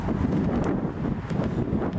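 Wind buffeting the microphone outdoors among tomato plants in a garden, a constant low rumble with gusty fluctuations throughout.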